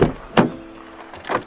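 A parked car's central locking engages with a sharp mechanical clunk, followed by a short motor whir and a second clunk, all close and without talk.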